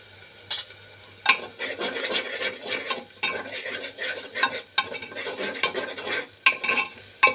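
Onion paste with turmeric stirred and fried in a pan, a loud bright sizzle broken by repeated scraping spoon strokes against the metal, close up with no talking.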